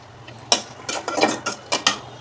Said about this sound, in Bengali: এখন পেঁয়াজটা আমি ভালো করে ভেজে নেব।